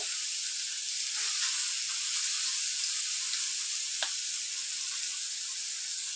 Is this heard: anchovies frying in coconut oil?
yes